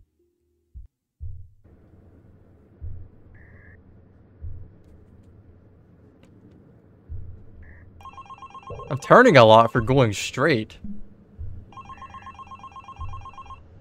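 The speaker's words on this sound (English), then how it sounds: "Answer the phone." Telephone ringing in the video game The Box, a repeated electronic ring in bursts over a low hum, with a loud jumbled sound in the middle and someone talking at times.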